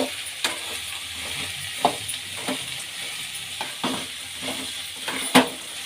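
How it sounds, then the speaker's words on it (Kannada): Onions and curry leaves frying in oil in a pan, a steady soft sizzle with intermittent scrapes and clicks of a spoon stirring, close and moderately quiet, with no talking. "ಈಗ ಎಣ್ಣೆಯಲ್ಲಿ ಈರುಳ್ಳಿ ಚೆನ್ನಾಗಿ ಫ್ರೈ ಆಗಲಿ."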